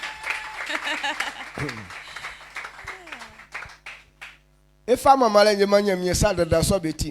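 A church congregation applauds to acclaim the Lord, a dense, moderately loud patter of clapping with a few whoops, followed after a short pause by a voice singing or preaching.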